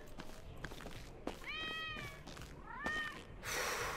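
A cat in the video game GTA 5 meows twice, a short drawn-out mew followed by a second, quieter one, over low background game ambience, with a burst of noise at the end.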